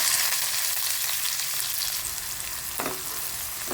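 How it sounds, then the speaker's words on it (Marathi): Onion frying with garlic in a hot oiled pan, giving a loud, continuous hiss and sizzle close up, broken by one brief clatter of a stirring spoon. "आता आपण याच्यात घालणार आहे आपला कांदा"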